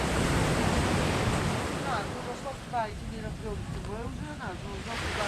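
Ocean surf rolls onto Lanai Beach in Koh Samui, Thailand, a broad wash of waves with wind noise, easing slightly midway as a bird chirps faintly in the background.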